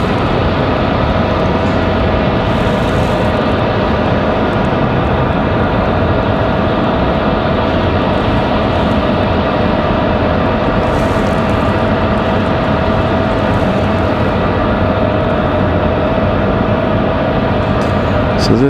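A United Boeing 737 MAX 8 departing Raleigh-Durham for San Francisco makes a continuous, loud jet roar with a steady tonal whine, constant from start to finish while someone talks over it.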